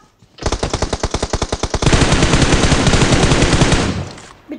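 Automatic gunfire in PUBG Mobile rattles off as loud, close bursts, first distinct rapid shots, then a dense sustained stream of fire that fades out.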